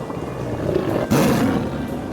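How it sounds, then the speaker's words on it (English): A tiger gives a rough, rumbling roar that swells suddenly and holds, fairly loud over a steady background wash, with no voices. "And there's a tiger."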